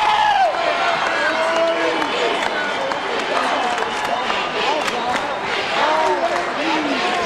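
High school basketball crowd at Conseco Fieldhouse during the 2004 IHSAA Class 3A state championship, a dense continuous roar with sneaker squeaks throughout and a commentator talking over it.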